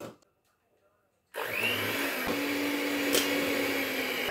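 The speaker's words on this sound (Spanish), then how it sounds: "Bueno, tenemos nuestra super batidora." After a moment of near silence, an electric mixer switches on and runs with a loud, steady whirring hum that continues to the end.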